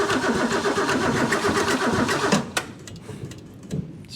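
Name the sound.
Mustang engine cranking but not starting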